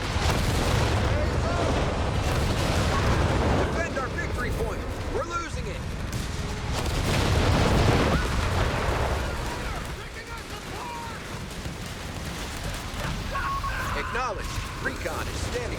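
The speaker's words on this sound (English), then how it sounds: "Using the long range barrage, I believe." A long-range artillery barrage in Company of Heroes 3 lands as repeated heavy booms and crackling blasts over a dense rumbling battlefield bed, with spoken commentary running underneath throughout.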